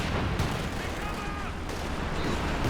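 Werfer rocket artillery barrage in Company of Heroes 2, a 3v3 match, rumbling as a dense, continuous wash of explosions and blasts, loud and close, with a commentator's voice running beneath.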